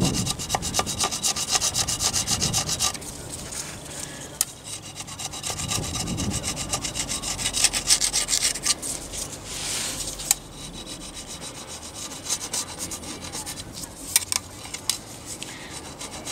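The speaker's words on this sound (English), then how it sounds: "it will scrape off the top of the high spot" Hand scraper working across a Moto Guzzi engine gasket surface to shave off high spots: a long, continuous rasping scrape with repeated strokes and small knocks, close and steady, with no talk.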